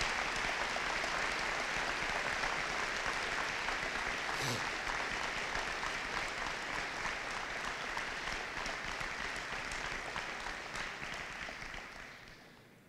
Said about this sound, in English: Please join me in a round of applause for the soldiers of the Raider Brigade.